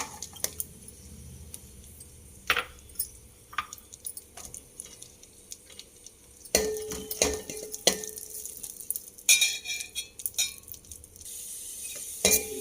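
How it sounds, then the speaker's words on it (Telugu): Raisins and dry coconut frying in ghee for semiya kheer, a soft crackling sizzle broken by clinks and scrapes of a utensil against the pan, growing busier and louder partway through. "ఇప్పుడేనేమో కిస్మిస్, ఎండు కొబ్బరి వేయించుకుంటాను"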